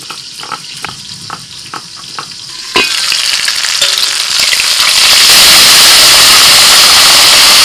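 Rohu fish head frying in a covered pan of hot oil, first a light crackle with rhythmic taps, then a sudden loud burst into intense, continuous spluttering and popping that keeps building.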